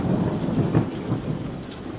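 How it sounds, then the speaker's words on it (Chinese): A hailstorm with thunder: low rumbling and a dense, steady pelting of falling ice and rain, loud and continuous, with no voices. "那几个冰雹打得我脑袋疼"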